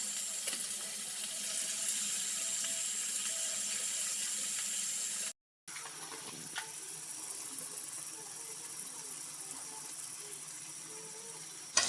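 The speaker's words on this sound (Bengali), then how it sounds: "এবার এর মধ্যে আমি মশলা ধোয়া জলটা দিয়ে দেব।" Water used to rinse the spice bowl is poured into a pan of fried chicken pieces and spices for chicken chaap, a steady running gush that cuts out briefly and then resumes. No one speaks.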